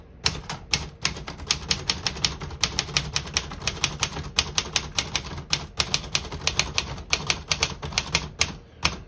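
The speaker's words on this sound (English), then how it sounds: "all the keys type perfectly and none of them stick" Brisk typing on a 1967 Corsair Deluxe portable typewriter: dozens of sharp, close key strikes in quick, uneven bursts with mechanical clacks, heard alone without speech.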